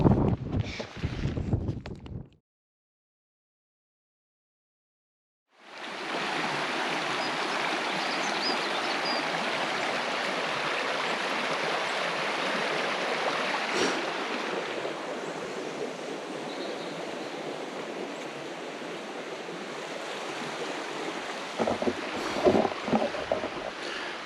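Mountain stream in woods in the Wicklow Mountains, a steady rushing water wash that starts after a brief silence and runs on continuously, with some wind noise and light handling sounds near the end.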